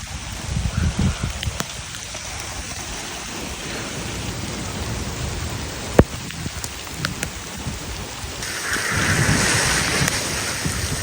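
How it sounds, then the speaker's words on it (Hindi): Heavy rain pours steadily onto an open farm field, a dense hiss of drops close around the listener with scattered sharper splats, growing a little louder toward the end. "तो भाई बारिश आनी शुरू हो गई झमाझम जबरदस्त मौसम हो गया खुशनुमा"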